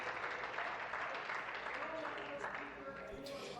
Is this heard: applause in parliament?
yes